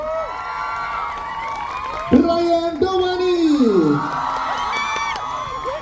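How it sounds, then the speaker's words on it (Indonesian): A crowd cheers and whoops with some clapping, swelling loudly halfway through, while an announcer speaks over a microphone. "Ini dia, tepuk tangan"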